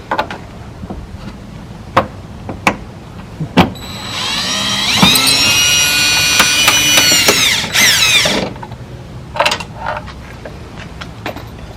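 A powered driver whirs steadily for about four seconds, backing out a number 8 body trim screw that holds a headlight on a Ford Excursion. Scattered clicks and knocks come before and after.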